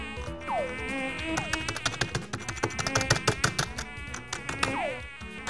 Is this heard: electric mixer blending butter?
no